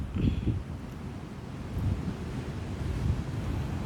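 Andaman Sea waves washing onto the shore with a steady rush, mixed with gusty wind buffeting the microphone; no voices.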